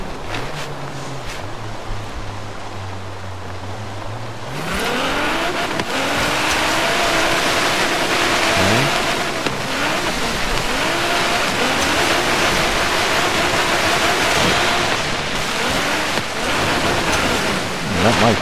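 In the Forza Horizon 3 racing game on Blizzard Mountain, a car engine revs and shifts gears as it drifts and splashes through water, with a loud, steady wash of spray beneath rising and falling engine tones.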